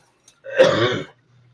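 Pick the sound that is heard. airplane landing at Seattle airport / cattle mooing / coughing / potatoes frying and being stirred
coughing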